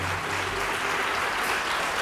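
Dense, steady applause from a large crowd at a live religious katha gathering, sustained at full volume for the whole stretch.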